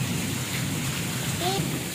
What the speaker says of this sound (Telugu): ఏ ఉరుముతుంది ప్రైజీ, బయటికి వెళ్ళుకో.